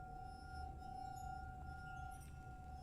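A faint glassy clink in The Suicide of Rachel Foster video game, a single soft chime near the end over a steady tonal hum and low ambient noise.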